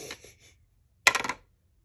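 A die tossed onto a tabletop during a Cairn tabletop RPG session: a brief clattering tumble of quick hard knocks that settles within a fraction of a second, near and fairly quiet, after a few faint soft sounds.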